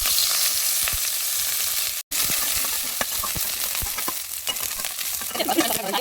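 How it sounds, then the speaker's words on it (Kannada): Green chillies fry in hot oil in a pan, a steady bright sizzle with crackling spits throughout, briefly cutting out for a moment midway before resuming, no voices. "ಈ ಹಸಿ ಮೆಣಸಿನ್ಕಾಯಿನ ಸ್ವಲ್ಪ ಫ್ರೈ ಮಾಡ್ಕೋಬೇಕಾಗುತ್ತೆ"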